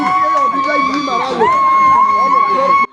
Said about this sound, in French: Emmanuel Gérard Odondon s'offre un premier bain de foule